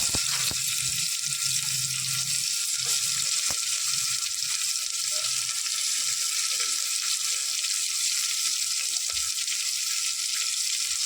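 Onion sautéing in hot ghee with browned ginger and garlic in a pan, a steady bright sizzle running throughout with a few soft stirring knocks near the start, fairly quiet and without any talking.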